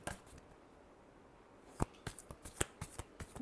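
Tarot cards shuffled close by in a quiet room, a run of crisp riffling snaps and flicks in the second half after a near-silent start, with no one speaking.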